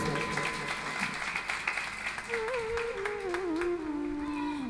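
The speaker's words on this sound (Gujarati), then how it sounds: "એને આપણે તાળીઓથી વધાવી લેશું" An audience at a religious discourse gathering applauds in a moderate, fairly distant wash of clapping, with a voice talking over part of it.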